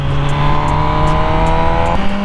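A 2020 MV Agusta Brutale 1000RR motorcycle engine drones loudly and steadily while riding, holding a sustained pitch under wind rush, then shifting tone slightly near the end, with no talking.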